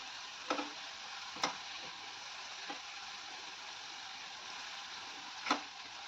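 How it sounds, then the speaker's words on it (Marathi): Onions frying in oil in small batches for vegetable biryani give a steady, soft sizzle with a few sharp ticks and pops scattered through it, close by and with no voices. "थोडं थोडं बॅचमध्ये आपल्याला हे तळून घ्यायचंय."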